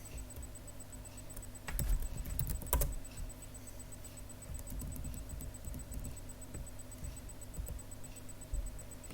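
Computer keyboard typing during a programming stream, a loose run of light clicks and a few sharper key strikes over a steady background hum, fairly faint and without speech.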